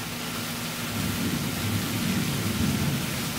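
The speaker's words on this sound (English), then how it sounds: "And that's thunder." Thunder rolls as a low, broad rumble over steady rain-like hiss, swelling slightly after the first second and holding at moderate loudness to the end with no voices.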